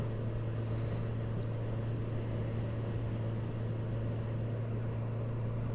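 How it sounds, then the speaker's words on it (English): An airplane taking off: a steady, loud engine roar drones on without a break, with a low hum underneath and no voices. "There's a plane. What's he doing? Taking off or landing? Taking off, I think."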